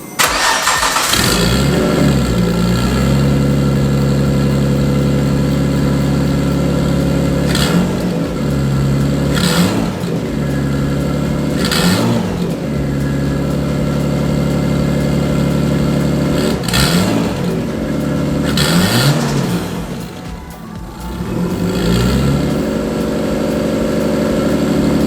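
Nissan S13 with a swapped RB25DET engine and a high idle fault, idling loudly and steadily up close, with a deep constant drone and several brief rises and dips in engine speed over the run.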